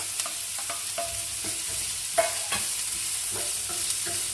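Chopped garlic sautéing in a pan for homemade pizza topping, a steady close sizzle broken by repeated light scrapes and taps of a spatula stirring, with no talk.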